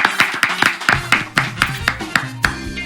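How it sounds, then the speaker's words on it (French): A studio audience on a French midday quiz show claps in scattered, uneven hand claps, loud and close, more like a small group clapping than full applause. "Applaudissements, s'il vous plaît."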